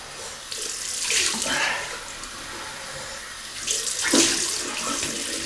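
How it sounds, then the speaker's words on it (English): Cold tap water runs steadily from a faucet, splashing as something is rinsed under it in a bathroom sink during a shave, with brief louder gushes near the start and end. "We'll rinse that off with cold water"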